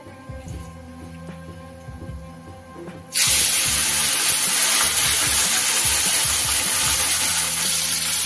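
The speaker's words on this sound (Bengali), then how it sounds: "মাছটা ভাজা হতে হতে" Small mola carplet fish drop into hot oil and a loud, steady frying hiss bursts in about three seconds in, replacing a quiet kitchen hum and continuing unbroken to the end.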